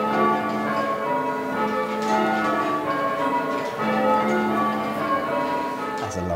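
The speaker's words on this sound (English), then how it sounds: "they will be welcomed by these beautiful bells" Church bells ringing in a continuous, overlapping peal, loud and resonant with sustained ringing tones.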